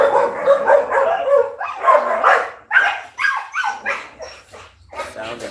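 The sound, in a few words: huskies howling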